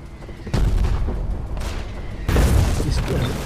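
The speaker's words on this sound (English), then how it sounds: "Is that a friendly RPG firing at us?" A rocket-propelled grenade fires and explodes in the war video game Foxhole, giving heavy, rumbling booms with a sharp second blast partway through over a constant battlefield din.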